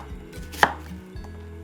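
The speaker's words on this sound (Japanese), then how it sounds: "トマト小1個と玉ねぎ大半分もざく切りにします。" Kitchen knife chopping a small tomato and half a large onion on a cutting board for a vegan dish, a few separate dull chops with one sharp louder strike in the middle, close and alone without talk.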